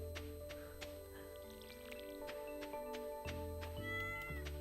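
A cat meows repeatedly in the farming video game Stardew Valley, soft game tones and pings mixed with light tapping effects, steady and clear with no talk.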